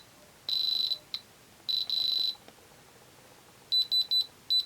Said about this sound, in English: So let's get the diamond tester out.